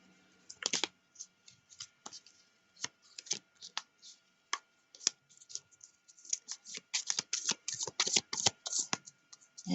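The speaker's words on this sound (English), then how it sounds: "just starting out with a shuffling bit here." Tarot cards are shuffled by hand in a quiet room, a run of crisp, close riffling snaps and soft slaps that come in irregular bursts and grow busier toward the end.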